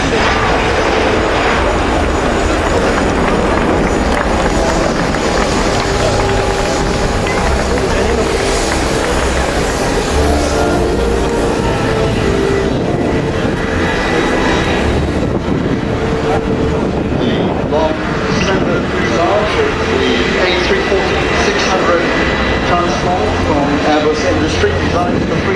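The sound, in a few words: Airbus A340-600 jet airliner flying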